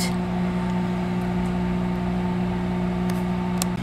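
Microwave oven running on a four-minute cook, a loud steady hum with a constant electrical drone from start to finish, nearby and alone with no talk.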